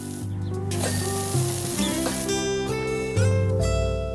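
Pressure washer spray in a cleaning video game, a steady hiss with mechanical whirring and clicky tones layered over it, with no talking.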